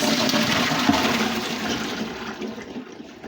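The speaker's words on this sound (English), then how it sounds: "I'm going to go ahead and drain these lima beans" Water from soaked lima beans (butter beans) draining in a loud rushing pour, steady and close before tapering off toward the end.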